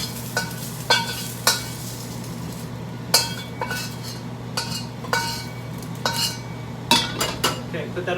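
Shanghainese stir-fry noodles tossed in a wok: sharp metallic clanks and scrapes of the utensil against the pan come at irregular intervals over a continuous low sizzle, with no talking.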